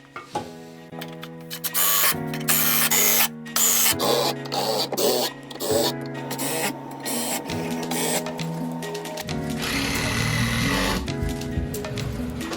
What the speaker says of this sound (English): I'm gonna use my new M12 Milwaukee Surge